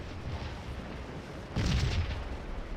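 Civil War firefight in the video game Scourge: a steady crackling din of distant musketry, swelling into a heavier rumbling volley partway through, with no voices.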